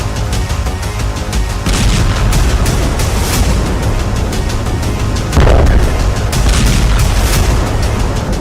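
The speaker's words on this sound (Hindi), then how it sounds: "इजराइल ने जिस बंकर बस्टर बम से नसरल्लाह को उड़ाया" Bunker buster bomb explosions from Israeli strike footage: a loud, continuous roaring rumble with heavier booms rising out of it, one near the start and a stronger one about two-thirds through.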